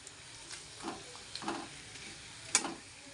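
Vada pav potato balls fry in a small amount of oil, heard as a faint, soft sizzle with a few scattered clicks and utensil taps, the sharpest near the end, and no talking.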